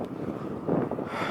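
Steady wind rumbles and buffets against the microphone outdoors after rain during a bicycle trip through Kazakhstan. The low roar stays constant with slight gusts and no voices.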